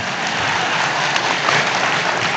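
Applause from an audience at a political speech, a dense continuous wash of clapping held at steady loudness throughout, with no voice over it.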